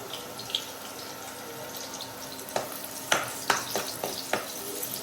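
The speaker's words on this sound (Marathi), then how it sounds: "आता आपण पहिले कांदा परतवून घेऊ" Onions fry in oil in a pan with a continuous sizzle and bright crackle, broken by several scraping strokes and knocks as they are stirred.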